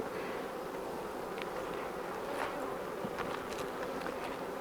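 Honey bees buzz around an open hive during a first-day-of-spring inspection, a dense continuous hum from many bees with individual insects droning closer now and then.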